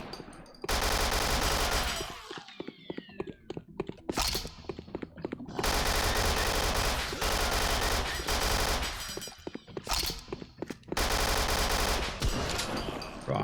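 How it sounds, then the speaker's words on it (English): Double-barrel shotgun fired in a video game, heavy broadband blasts in several long bursts with brief gaps between, loud and close, mixed with clattering impacts and no talk. "Double barrel shotgun sounds pretty cool"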